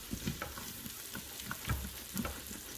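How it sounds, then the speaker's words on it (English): Meatballs sautéing in a pan for Salisbury steak, a steady low sizzle broken by scraping and stirring knocks as the pan bottom is worked, close up with no voices. "we're going to go ahead and saute them"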